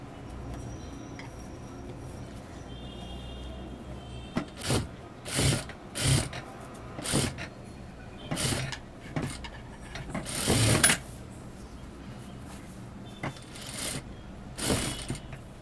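A sewing machine stitching the lining edge of a blouse runs in short, close, rattling bursts separated by brief pauses, with a faint whir between runs.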